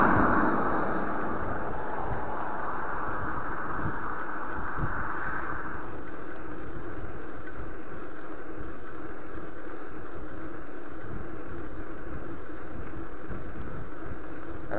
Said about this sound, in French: La vache, c'est du vent, hein.